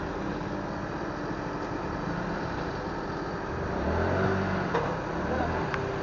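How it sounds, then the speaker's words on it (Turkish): Congested city traffic in Marmaris, heard from a motorcycle: a steady roar of engines and wind, with a deeper engine swell building briefly near the end. "burada trafik sıkışık"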